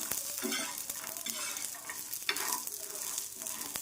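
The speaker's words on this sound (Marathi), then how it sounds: "शेंगदाणे दोन ते तीन चमचे आहे तेही छानपैकी भाजणार" Peanuts roast in a pan with coconut as a spoon stirs them, giving close scraping and rattling strokes over a soft sizzle, with no talking.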